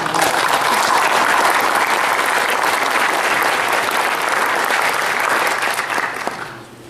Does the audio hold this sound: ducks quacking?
no